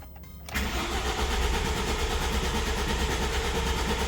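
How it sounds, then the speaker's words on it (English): A Ford Mustang S197 cranks after an oil pan drop and reinstall, a sudden loud, continuous churning starter whirr that runs steadily and close without catching. "I'm gonna keep cranking until that light goes out."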